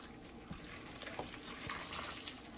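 Hot water poured over cauliflower florets for Gobi Manchurian, a steady close splashing gush of liquid with a few louder spatters, running throughout with no talking.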